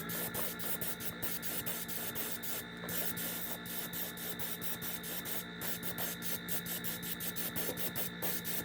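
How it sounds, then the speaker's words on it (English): Flame orange paint sprays in an even hiss from an airbrush onto a fishing lure, a constant close airy stream with faint rhythmic ticking underneath and no voices. "we're going to spray everything on the bait other than the belly"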